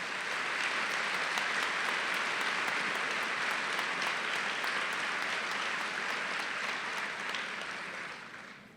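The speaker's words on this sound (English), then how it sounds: "Would you give them a round of applause?" Large audience at a university winter undergraduate commencement ceremony gives sustained, dense applause that holds steady and then tapers off toward the end.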